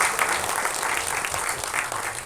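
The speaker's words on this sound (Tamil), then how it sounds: "மீண்டும் ஒரு பெரிய கைத்தட்டல் கொடுத்துடலாம்" Sustained audience applause at a Tamil film album song screening festival, a dense steady wash of many hands clapping throughout, fairly loud and close, with no talk over it.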